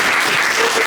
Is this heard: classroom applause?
yes